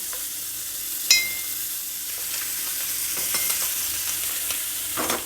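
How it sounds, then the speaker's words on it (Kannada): Butter sizzles steadily in a hot cast paddu pan with rounded cavities for Davangere benne paddu, a continuous close hiss broken by a few soft clicks and taps, with no voices. "ಈಗ ಪಡ್ಡು ತವ ಬಿಸಿಯಾಗಿದೆ, ಇದಕ್ಕೆ ಬೆಣ್ಣೆ ಹಾಕ್ತಾಯಿದ್ದೀನಿ."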